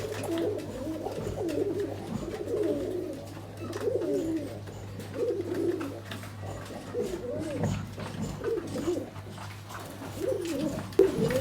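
A male pigeon coos repeatedly in low, throaty rolling calls close by, with a steady faint hum in the background.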